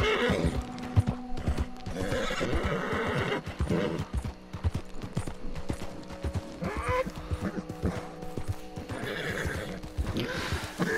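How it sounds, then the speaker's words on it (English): Horses neigh and whinny repeatedly over continuous clip-clopping hooves in Red Dead Redemption 2, with game background music and effects throughout. "This horse is complaining a lot compared to the other one."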